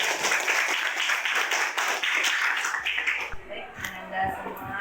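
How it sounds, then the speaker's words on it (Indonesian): Classroom applause fills the first few seconds with dense, steady clapping from a group, then thins out into scattered claps as a voice begins speaking. "Oke, aplaus untuk kita semua."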